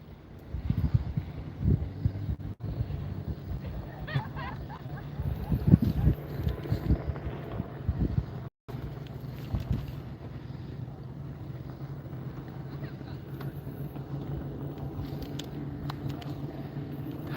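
Boats cruise on Lake Guntersville under wind buffeting the microphone, with distant motor drone and water slapping, the noise rougher and louder in the first half before easing into a steady hum.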